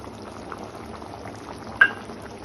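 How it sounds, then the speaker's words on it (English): Chicken simmering in a pot, a quiet continuous bubbling of liquid with one brief sharp clink near the end. "So it's about 5 minutes the chicken are getting cooked well."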